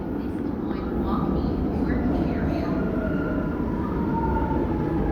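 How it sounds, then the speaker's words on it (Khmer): A crowded metro train in China rumbles steadily past, a loud continuous low roar with faint squealing wheel tones above it and a muffled voice underneath. "ពេលដែលយើងឮសលេង គឺញ័រសន្ធឹកសំឡេងរថភ្លើងមក"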